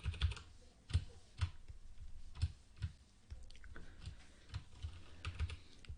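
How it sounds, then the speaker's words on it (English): Quiet typing on a computer keyboard during a drawing session: irregular soft key clicks in short bursts, heard alone and somewhat distant from the microphone. "I also hope my keyboard doesn't do too much noise"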